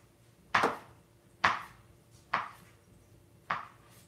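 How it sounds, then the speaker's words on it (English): Knife cutting through an avocado on a cutting board, four crisp separate knocks spaced about a second apart, close and clear against a quiet room. "I'm just going to slice it down the width of the avocado"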